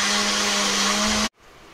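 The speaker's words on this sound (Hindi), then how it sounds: "अब इसकी प्यूरी बनाने के लिए आपको ब्लेंडर में डालना होगा" A kitchen blender whirs steadily and loudly as it purees pressure-cooked beetroot and vegetables for soup, running alone for just over a second before cutting off abruptly.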